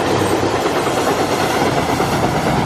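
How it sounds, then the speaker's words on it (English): Train rumbling over a bridge overhead, heard from inside a tunnel near Lydia's Bridge in Jamestown, North Carolina: a loud, steady, dense roar with faint clickety-clack of the railcars, continuous throughout with no talking. "That must be another train going over."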